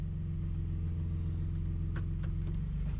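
A Nissan Frontier pickup engine idles steadily up close, a continuous low humming rumble with a few faint clicks from the shifter.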